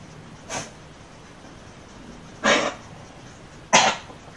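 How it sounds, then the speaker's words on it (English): Three short, sharp sneezes from a dog, spaced apart, fairly close, with quiet background between them. "that's my dog sneezing,"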